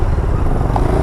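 Motorcycle engine idling or running close by, a loud, steady low rumble with rapid pulsing throughout the short moment.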